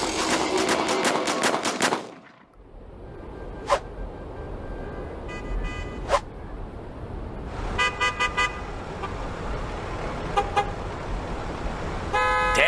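Dense city traffic at a jam on the Golden Gate Bridge in San Francisco, with several sharp car horn blasts, some in quick rapid bursts, sounding loudly over a constant engine rumble.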